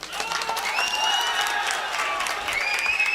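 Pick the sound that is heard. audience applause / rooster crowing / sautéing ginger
audience applause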